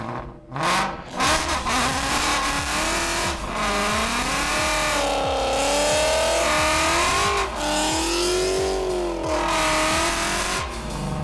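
A supercharged 2017 Ford Mustang GT making about 600 wheel horsepower accelerates hard on a street, its loud engine revving up through the gears with rising pitch, shift breaks and a brief tire squeal at the start, close and continuous.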